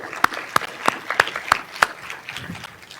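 About six sharp, evenly spaced claps ring out near and loud at a school board meeting, tapering off into a softer patter and faint rustle.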